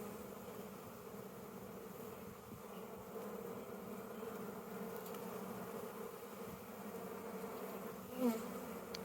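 Dense, steady buzzing of many honey bees close by around hive frames, a continuous droning hum with a brief louder whine as one passes near.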